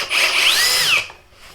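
A Metabo HPT 36V cordless hammer drill (DV 36DA) drives a screw into wood with a close, rising motor whine lasting about a second, then quickly dies away.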